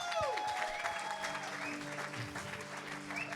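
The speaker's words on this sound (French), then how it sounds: "j'aimerais aussi qu'on puisse applaudir David et Mélina" A church congregation at a Sunday service claps for newlyweds David and Mélina, a moderate, steady patter of many hands with sustained organ-like tones and faint chatter underneath.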